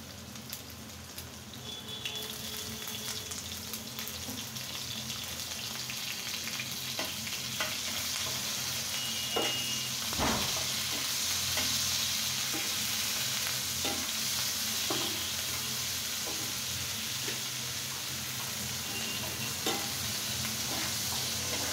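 Shrimp sizzle and fry in hot oil seasoned with turmeric and salt. A steady crackling hiss is stirred with scattered spoon clinks and scrapes, and no one talks.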